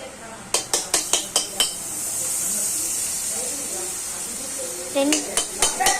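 A kadai is set on the stove and butter is added. A rapid run of metallic clanks opens, then a steady hiss of the fat heating in the pan, then more clinks of the utensil near the end.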